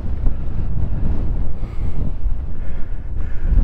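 Wind buffets the microphone at Lundy Island's airfield runway, a steady loud low rumble with gusty surges and no speech.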